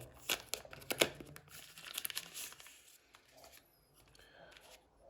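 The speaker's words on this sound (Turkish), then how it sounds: "Hemen o poşeti açalım." A plastic bag holding DJI Osmo Action 5 Pro camera accessories is torn open and handled, with close crinkling and rustling bursts that are loudest at first, then lighter crackles.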